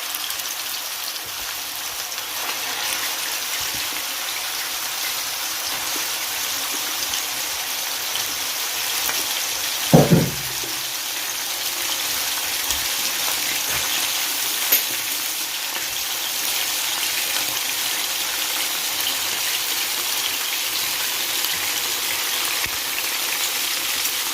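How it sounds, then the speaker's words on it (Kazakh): Chest meat dropped into hot oil gives a sudden loud sizzle burst partway through, then a steady soft crackling frying hiss continues alone with no talk. "Майымыз қызғаннан кейін төс етімізді майға саламыз."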